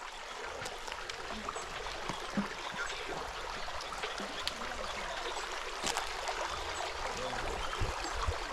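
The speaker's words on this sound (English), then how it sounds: "So this is River Tegevi." The River Tegevi near Naromoru, Kenya, flows with a steady, broadband rushing and trickling of water that stays constant throughout, with no talking.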